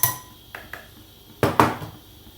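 A metal spoon clinks against a small Greek coffee pot while sugar is added, four sharp taps in two pairs, close and fairly loud with quiet gaps.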